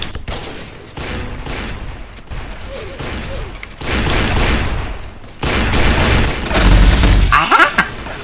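Rapid-fire revolvers go off in an online shooter game on a server full of them: loud, close gunshots crack in quick volleys and dense bursts, rising to a heavy barrage.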